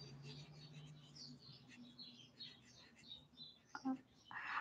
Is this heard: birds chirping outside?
yes